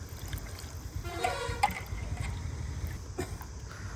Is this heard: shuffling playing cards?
no